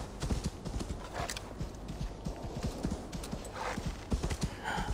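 Rapid rhythmic clip-clop of a horse galloping in the video game Assassin's Creed Valhalla, loud and continuous hoofbeats with occasional brief whinny-like accents.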